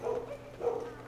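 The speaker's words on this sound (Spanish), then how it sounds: "¿Son del juego o son de acá del vecindario? Ahorita. Estúpidos perros." Two muffled dog barks, evenly spaced about half a second apart, at moderate distance with nothing else around them.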